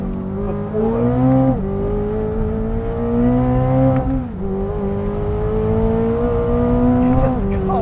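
Corvette ZR1 sports car driving at speed, its engine holding a steady loud drone that rises and dips with throttle changes, with a brief lift around the midpoint before pulling again.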